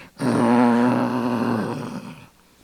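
A person imitates a growling dog with a sustained, rough, throaty vocal snarl lasting about a second and a half, close and fairly loud, then tapering off.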